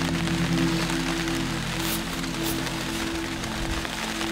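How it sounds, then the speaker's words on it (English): Rain patters steadily on a tarp shelter set up during a mountain goat hunt in the Alaskan mountains, a close, continuous dense drumming with a low hum underneath and no talking. "Rain all around."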